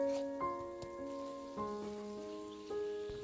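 A chive pancake pan-fries on low heat, giving a soft, steady rain-like sizzle, faint beneath gentle melodic music notes.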